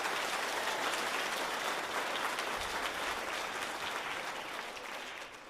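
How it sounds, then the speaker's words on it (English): Audience applause fills a children's chorus concert hall for a young soloist, a dense, steady clapping that holds for several seconds before easing slightly at the end. "so please give Joy a big round of applause"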